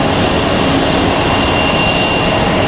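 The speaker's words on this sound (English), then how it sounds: "Delta 2496 was that departure." Loud, steady roar of a Delta jet airliner departing Raleigh-Durham airport, a broad, sustained engine rumble and hiss that fills the whole clip without letting up.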